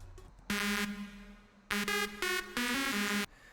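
A bright, buzzy sawtooth synth lead recreating a well-known lead plays a short melody in sustained notes with brief gaps, loud and upfront, no voices.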